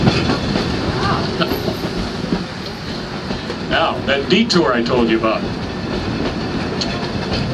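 Rio Grande Southern Galloping Goose rail motorcar rolling on a museum loop of track, a steady loud rumbling ride noise with faint wheel clatter heard from on board, while someone talks over it.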